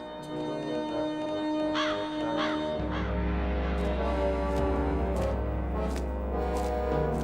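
Cartoon crow giving a few raspy caws early on, then music and other sounds rise beneath it, moderately loud and close.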